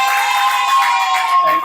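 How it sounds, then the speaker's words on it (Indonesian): A class of students applauds and cheers together at the close of a group activity in an Indonesian school lesson, a dense, lively burst of clapping and young voices that holds steady throughout. "tepuk tangan untuk kita semuanya"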